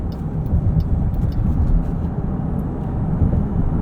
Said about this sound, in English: this is full acceleration from the electric motor